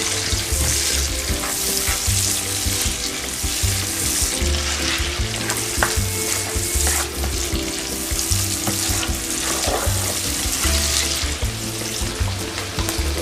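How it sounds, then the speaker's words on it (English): Shrimp sautéing in a hot pan, giving a loud, dense and continuous sizzle with a few faint clinks underneath and no talking. "The shrimp go in here to get them sauteed and ready to roll"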